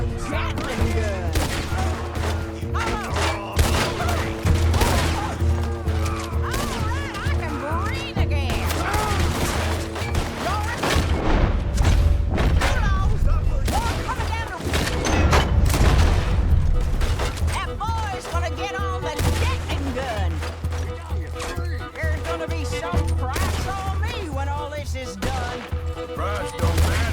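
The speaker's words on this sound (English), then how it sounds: "I was expecting a fight, all right. A Gatling gun." A Gatling gun in the Red Dead Redemption 2 video game fires in long, dense rattling bursts under a constant rumble of battle, with a voice speaking intermittently over the gunfire.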